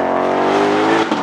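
Loud, close engine of a Ford Mustang Shelby GT500 holding a high, steady rev, with a brief tire-squeal burst near the end.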